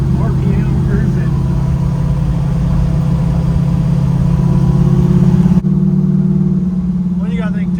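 A cammed 5.3-liter V8 in a 1968 Chevelle, exhaust still tucked under the body, drones at a steady low pitch while cruising, with the hum briefly dipping partway through, and voices talk over it inside the car.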